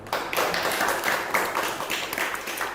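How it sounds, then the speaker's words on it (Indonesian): A small audience at a university class presentation claps for a few seconds, a scattered, moderately loud patter of hands with no one speaking. "Tepuk tangan."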